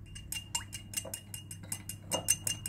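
A utensil stirs a sweet almond oil skincare mixture in a bowl, giving a series of light, close clinks and scrapes at an even, quick rhythm.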